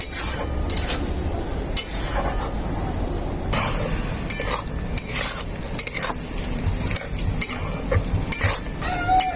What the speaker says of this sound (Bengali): চালটা আর মশলাটাকে আবারও খুব ভালো করে কষিয়ে নেব